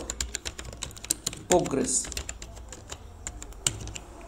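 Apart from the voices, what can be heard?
typing on a computer keyboard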